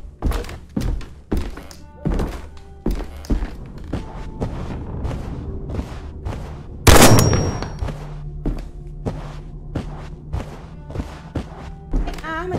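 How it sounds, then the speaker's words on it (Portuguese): In the video game Stray Souls, a gun fires on its own: one sharp, loud blast rings out mid-clip among a string of dull thunks and thuds from the game environment, with no talking. "A arma disparou sozinha ou é impressão minha?"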